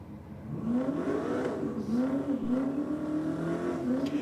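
A Nissan Patrol race car launches and accelerates with a little tyre spin, its engine note climbing and wavering steadily, loud and fairly close, with no talk.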